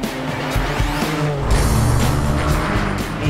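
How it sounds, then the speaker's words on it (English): A Porsche 718 race car driving hard on a racetrack in Scotland, its engine roaring loud and close with shifting revs and tire squeal throughout. "Playing around on a racetrack in Scotland with my wee brother in these amazing Porsche 718s."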